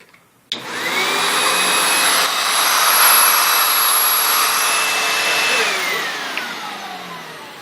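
A Sebo X4 Pet Edition upright vacuum cleaner with its hose extension fitted switches on with a sharp click and runs as a loud, steady high-pitched whine and roar, close by, easing slightly near the end.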